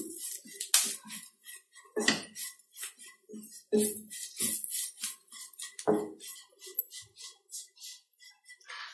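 A spatula scrapes and clinks against a pan while pepper powder and garam masala are sautéed for a Kerala egg roast, giving close, irregular taps and scrapes with short pauses and no talk.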